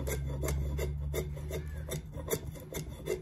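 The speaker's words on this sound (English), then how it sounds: "let's do some shaving here" A custom RYNO knife by Wyatt Hines shaves wood into feather sticks, making a close, steady series of rasping scrapes that come in a regular rhythm of about three strokes per second with no talking.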